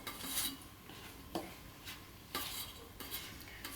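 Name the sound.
mixing rava idli batter with curd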